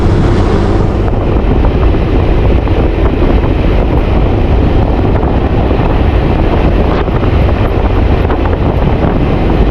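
Strong wind buffets the microphone in a constant loud roar, with a faint watery wash beneath it.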